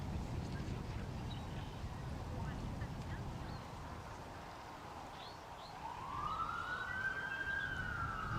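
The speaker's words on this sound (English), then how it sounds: "All right, that's the 30-second siren." A distant 30-second warning siren at a disc golf event wails and rises over steady wind and background noise near the end.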